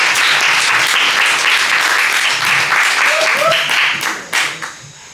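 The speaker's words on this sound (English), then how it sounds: "Give him a little round of applause." Loud, dense applause from a crowd, sustained clapping that tapers off near the end.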